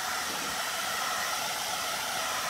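A handheld blow dryer blasting steady, loud airflow to dry paint on a monarch butterfly yard art decoration, an unbroken even whoosh with no talk.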